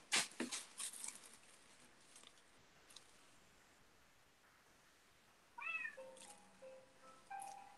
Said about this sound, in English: I hearing a cat. Meow.